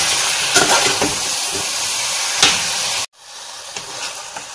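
Chopped medium-size tomatoes fry in a pan with a steady loud sizzle and occasional scraping stirs. The sizzle drops abruptly partway through, then continues more quietly.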